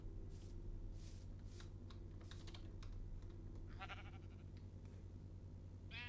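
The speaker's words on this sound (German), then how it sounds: "Das ist auch ein Schaf." Sheep bleating in Minecraft, several short bleats over a steady game background hum with clicky keyboard-like taps scattered throughout, no talking.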